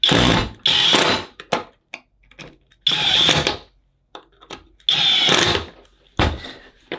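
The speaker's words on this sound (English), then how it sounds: "Take your 3 provided fasteners and get them started into the plastic. Once they're started, secure them." A power driver spins screws into a plastic actuator on a lighted truck box, three loud bursts of whirring with short pauses and faint clicks between, close and alone.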